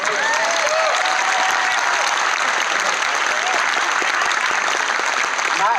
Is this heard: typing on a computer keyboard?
no